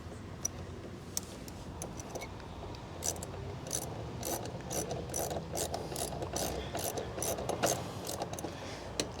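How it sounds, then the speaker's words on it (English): A socket ratchet tightening a screw on a Tesla Model 3 mud flap, making a close run of quick metallic clicks in irregular bursts over a faint background hum. "I'm sure most of you know how to use a socket."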